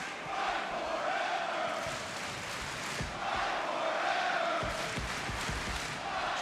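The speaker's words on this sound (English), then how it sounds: "Tremendous show of appreciation from this sold-out crowd for both these athletes." Sold-out wrestling arena crowd cheering in appreciation, a dense sustained roar of many voices that swells and dips in waves, heard at a distance and filling the whole space.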